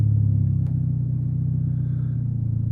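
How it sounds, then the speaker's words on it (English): A car with a loud aftermarket exhaust idles with a deep, throbbing rumble and rises in a couple of brief revs, heard close and alone. "It's got a loud exhaust. Rev it a little, rev it again."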